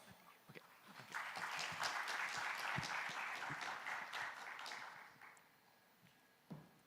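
A conference audience at the World Bio Summit 2025 gives a fairly soft round of applause. It swells quickly, holds steady for a few seconds, then fades out, leaving a quiet room and a single thump at the end.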